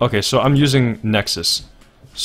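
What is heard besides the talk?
No everyday noise stands out behind the speech.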